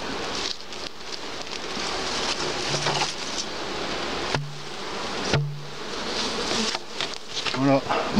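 Honeybees buzz steadily around an open hive frame in a twelve-frame hive, a dense continuous drone with occasional louder passes of individual bees close by.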